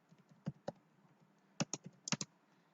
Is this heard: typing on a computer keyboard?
yes